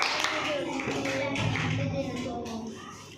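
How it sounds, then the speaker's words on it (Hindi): Several people clap during a funny classroom-style word game, a dense, steady patter of hand claps lasting a few seconds, fairly close and mixed with some murmuring voices. "तालियां बजाओ।"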